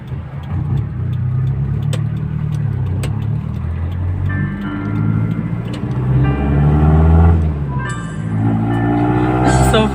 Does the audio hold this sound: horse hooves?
no